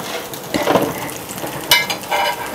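Eggs fry in a pan with a steady broadband sizzle throughout, swelling in brief louder bursts as they cook, close and without any talking.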